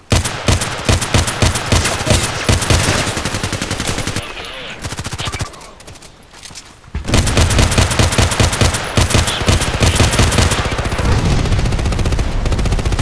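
SKS Carbine and other weapons fire in the Contract Wars shooter game: loud rapid bursts of gunshots, nearly continuous, with a short quieter lull in the middle before the firing resumes at full strength.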